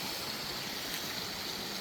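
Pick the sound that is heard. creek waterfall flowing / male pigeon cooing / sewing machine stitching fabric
creek waterfall flowing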